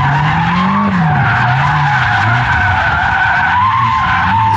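A BMW M5 F90 sliding sideways while drifting gives a loud, continuous tire screech over a wavering engine drone that runs without a break for the whole stretch.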